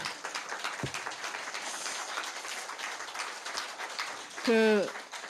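Steady applause from a lecture audience at a Korean forum, a dense crackling patter throughout, with a voice rising briefly over it near the end.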